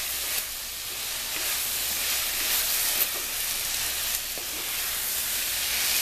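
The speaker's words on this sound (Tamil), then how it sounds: "இதை வந்து எல்லாத்தையும் சேர்த்து ஒரு வதக்கு வதக்கி விட்டுக்கோங்க எண்ணெயில் ஒரு ரெண்டு நிமிஷம்" Drumstick and mixed vegetables sauté in hot oil for sambar, a steady, even sizzle with faint stirring scrapes running throughout, close and continuous with no one speaking.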